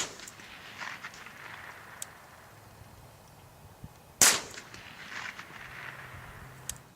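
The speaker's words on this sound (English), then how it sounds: "there's 3 shots. They hit to the right there on the board." .22 LR rifle shots fired outdoors at a pine board 200 yards away: one sharp, loud crack stands out in quiet surroundings, with two much fainter snaps before and after it.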